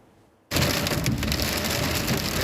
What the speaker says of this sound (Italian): A Montagnana la situazione è più difficile, con grandine e molta acqua caduta in pochissimi minuti